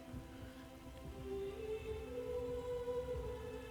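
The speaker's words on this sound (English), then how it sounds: "Thank God for this cinematic rain." Steady rain falls in Shadow of the Colossus, a constant hiss and patter with a low sustained musical tone humming underneath.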